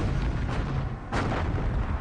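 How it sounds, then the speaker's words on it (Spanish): Heavy naval artillery from radar-guided battleship guns opening fire at night, a dense continuous roar of booming with a fresh loud burst midway, close and powerful with no voices. "los cañones guiados por radar de los acorazados norteamericanos abren fuego"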